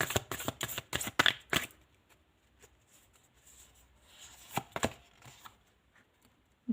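Tarot cards riffled and shuffled in a quick burst of crisp flutters, then a pause and a couple of sharper snaps as cards are drawn and laid down, close and fairly quiet with no talking.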